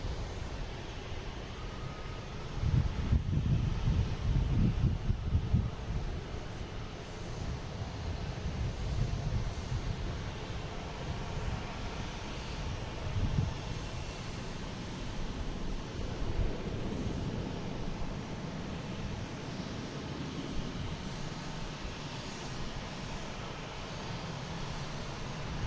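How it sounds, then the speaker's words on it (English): An American Airlines Embraer E170 airliner takes off at Boston Logan with a steady, distant low rumble of engine roar that swells briefly and then holds evenly throughout. "we have American Airlines taking off in E170, heading to Indianapolis,"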